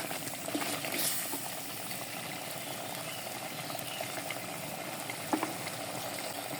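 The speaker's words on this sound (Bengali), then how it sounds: "আমার মাংসটা ভুনা হচ্ছে" Goat mutton cooked bhuna-style with whole spices fries in a pan with a steady, moderate sizzle and bubbling. Occasional soft stirring scrapes come through, and one brief sharper knock lands near the end.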